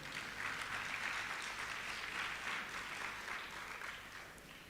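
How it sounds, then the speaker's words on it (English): An audience at an early childhood professional development event applauds the legislators: a faint, sustained wash of clapping that slowly tapers, with no talk over it. "Let me get the clap. Give the legislators a little credit"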